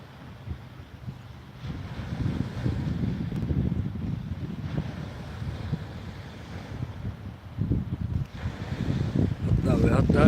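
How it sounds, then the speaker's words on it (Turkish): Sea waves wash against the shore at Dikili, Turkey, at sunset, with a steady low rumble, mixed with gusty wind buffeting the microphone; no one speaks. "Ben susayım da biraz denizin sesini dinleyeyim."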